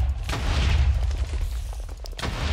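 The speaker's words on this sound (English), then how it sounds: "Why is this spider exploding?" An exploding spider in a modded Minecraft game, heard as loud booming blasts with a dense low rumble, a sharp burst near the start and another crack near the end, alone without talk.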